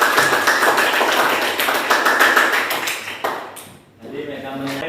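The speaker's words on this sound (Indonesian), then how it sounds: "beri tepuk tangan kepada Mega dulu ya" Applause in a classroom for a student after a physics lesson on Archimedes' principle, a dense patter of many hands clapping together for about three seconds, then fading out as a voice speaks near the end.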